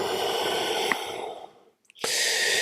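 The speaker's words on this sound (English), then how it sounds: "And exhale." A person exhales slowly during a morning mobility practice: a long, soft, airy breath, briefly paused, then another steady breath begins, close and alone with no talk.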